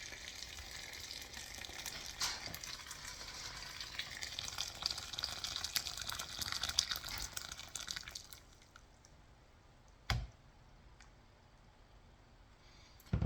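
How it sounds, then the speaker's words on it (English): Steady rushing, splashing pour of 8 cups of hot water into a pot of stew beans for several seconds, then it stops, leaving a quiet room with a couple of soft knocks. "I'm gonna put the hot water."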